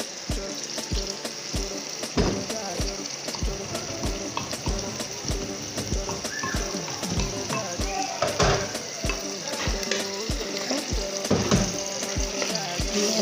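Meat and frozen tomato fry in a pot for Nigerian miyan taushe, a continuous crackling sizzle broken by regular clinks and scrapes of stirring, fairly close, with no talking.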